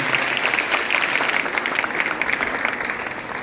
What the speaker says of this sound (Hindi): एक बार जोरदार तालियों से मैं आपका स्वागत करूँगा